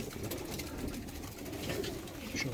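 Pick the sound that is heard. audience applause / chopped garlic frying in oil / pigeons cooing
pigeons cooing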